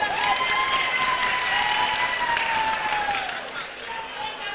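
A crowd at an opposition party's weekly general assembly in Guinea applauds steadily, the sustained clapping thinning and fading slightly toward the end.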